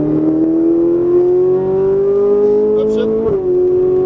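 A Ferrari 458 Italia engine pulls hard and climbs steadily in pitch, loud and close, before a brief dip near the end as the revs settle, with a voice talking over it.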